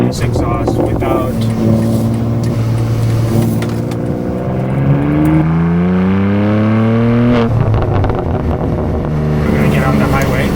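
A BMW G87 M2 fitted with an AWE track exhaust revs up and down close by, its engine note sweeping upward and falling back over a steady loud drone, with a voice talking over it.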